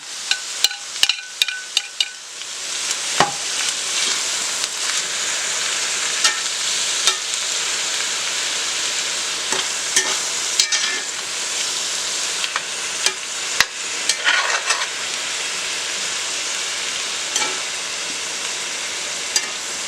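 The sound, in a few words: stirring chicken pesto, asparagus and cherry tomatoes in skillet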